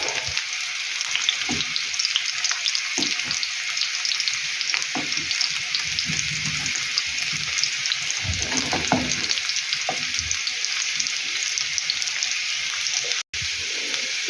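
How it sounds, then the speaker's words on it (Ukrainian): Potatoes sizzle steadily in a frying pan, a continuous bright crackle broken by soft scraping and clinks as the slices are turned over to brown the other side; no voices are heard. "Я її отак всю зараз переверну і обсмажу так само з другої, з другої сторони."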